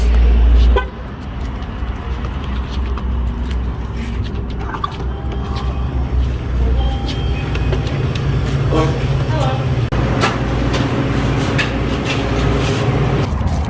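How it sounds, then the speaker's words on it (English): Continuous highway noise with a low rumble of passing vehicles, a brief honk early on, and faint voices in the background. "It's like across from the highway, so it's kind of noisy"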